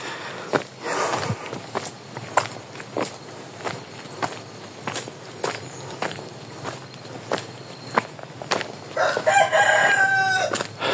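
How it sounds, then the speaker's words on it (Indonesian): Footsteps crunch steadily on a path in a hilltop village while a rooster crows briefly in the distance, followed by a louder, nearer crow toward the end. "Ada suara ayam."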